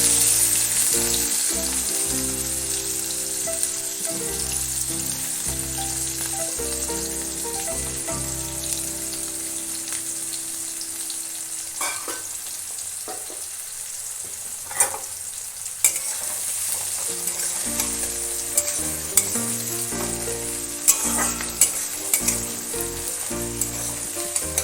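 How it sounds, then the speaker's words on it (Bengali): Chopped onions fry in hot oil with dried chili in a pan, a steady close crackling sizzle with occasional stirring clinks, while a low hum runs underneath for the first half. "পেঁয়াজটা একটু হালকা করে ভেজে নেব, একদম লাল করব না।"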